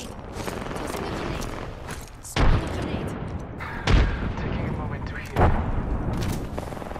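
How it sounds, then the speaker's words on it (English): A thrown grenade explodes in Apex Legends, its heavy boom landing among other loud explosive bursts over continuous game noise and a player talking. "Tossing a grenade."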